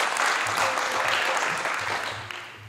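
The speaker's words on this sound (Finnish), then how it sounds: "Ja aplodit vielä." An audience at a Jari-Pekka rally prize-giving in Heinola breaks into sustained applause, a broad, steady wash of many clapping hands that fills the whole stretch and tapers slightly at the end.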